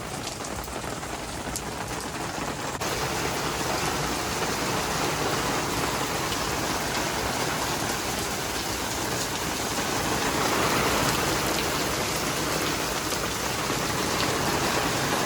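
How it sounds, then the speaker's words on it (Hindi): Heavy rain pours steadily, a dense, loud hiss of drops hitting surfaces close by, continuous throughout with no voices. "आप देख सकते हो कितनी तेज़ बारिश हो रही है।"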